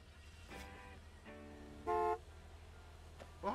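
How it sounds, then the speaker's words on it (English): Car horn honking in the video game Gas Station Simulator, several short toots with one louder, longer blast in the middle, over faint low background hum. "Well, honking at me"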